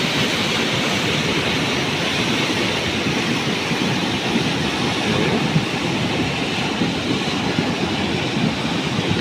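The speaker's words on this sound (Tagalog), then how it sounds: "Lagang hampas ng tubig yan." Strong rushing river water, a dense continuous roar of churning flow that stays loud and unbroken throughout, with no voices over it.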